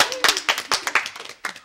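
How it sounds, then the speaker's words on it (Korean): Scattered hand claps from a small group in a classroom, a dozen or so uneven sharp slaps over under two seconds, fairly close and loud, thinning out toward the end. "박수 한번 쳐주세요"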